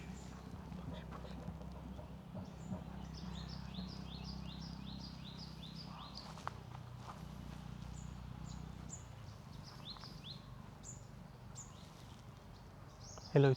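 Birds calling in a morning forest near Bengaluru, a run of quick repeated chirps over a low hum of nearby road traffic, with faint talk underneath.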